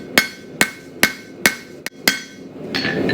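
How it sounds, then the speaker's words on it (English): Hammer blows on hot steel from a coil spring being forged into a frontier-style knife blade, six sharp ringing metallic strikes at an even, deliberate pace, loud and close, followed by a brief scraping clatter. "Now obviously as I continue to hammer"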